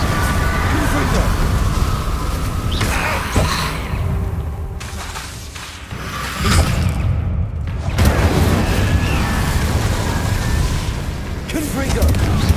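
Confringo explosion spells blasting against Inferi in Hogwarts Legacy, loud repeated booms and shattering bursts crowding over one another amid constant game noise, with a voice calling out spells over the din.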